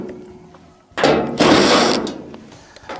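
A power driver whirs in short bursts as it backs quarter-inch screws out of a clothes dryer's back panel, with clicks and clatter between runs, close by.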